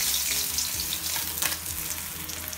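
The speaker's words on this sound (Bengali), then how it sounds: "আমাদের মাছগুলো ভাজা হয়ে গেছে আমি একটা একটা করে তুলে নিচ্ছি" Tengra catfish fry in hot oil with a close, steady sizzle and crackle, broken by a few light scraping and clinking touches as pieces are lifted out, with no voices.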